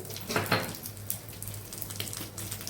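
Onions and chillies sautéing in a pan for a banana-stem chutney, a soft steady sizzle with light crackles and a faint low hum underneath, no talking.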